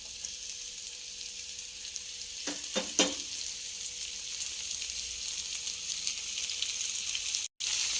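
Oil sizzling steadily in a pan while leftover oil is topped up before adding ginger-garlic paste for chicken fry, a continuous close crackle with a few sharper stir clatters midway and no talk.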